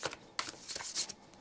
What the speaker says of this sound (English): that's why it shuffles so nicely